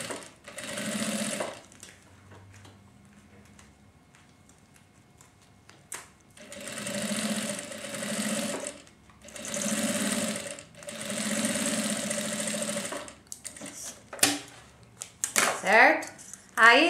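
A sewing machine stitches a seam on a thermal lunch bag in several separate runs of steady whirring, each a second or two long, with pauses between them and someone talking in the gaps.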